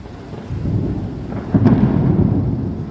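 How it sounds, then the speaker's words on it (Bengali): Deep thunder rolls through a hot-weather storm with lightning, a steady low rumble that swells louder about halfway through, with no voices. "বিদ্যুৎ চমকাচ্ছে এবং অনেক জোরে জোরে আওয়াজ হচ্ছে"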